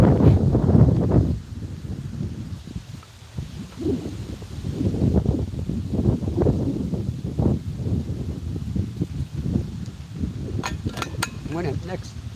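A breeze blows outdoors at a fishing spot, buffeting the microphone with a steady low rumble and gusty swells that carry on without a break.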